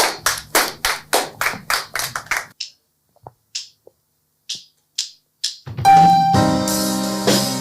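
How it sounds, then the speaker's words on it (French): A small audience at a student talent show claps in a steady unison rhythm of about a dozen sharp beats, then scattered single claps, before music starts up loudly. "on va l'applaudir pour sa prestation"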